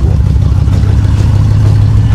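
A Lincoln Continental with a roughly 7.6-litre V8 engine starts readily and runs, a loud close steady rumble that holds for about two seconds, then drops slightly at the very end.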